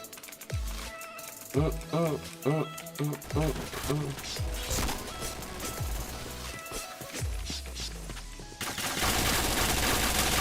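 Gunfire in the online shooter Point Blank, with rapid bursts of shots and game sound effects running through the whole stretch, mixed with a meowing cat and a voice talking over it.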